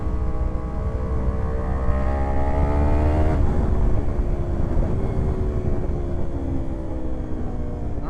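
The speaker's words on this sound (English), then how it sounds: "Hopefully I can hear the exhaust pretty good." Yamaha R1 sport motorcycle exhaust on a ride to a Cars & Coffee meet, a loud steady engine drone with rising and falling revs through gear changes, continuous and close throughout with no talking.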